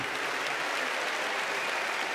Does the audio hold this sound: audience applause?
yes